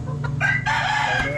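A rooster crows loudly nearby, one long drawn-out call over a low background hum.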